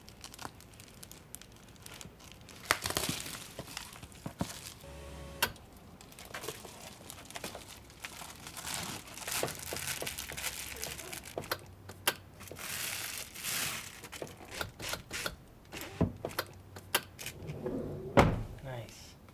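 Reflectix foil-bubble insulation being cut and handled for car window covers, giving irregular crinkling, crunching and snipping bursts close by over a long stretch, with occasional knocks.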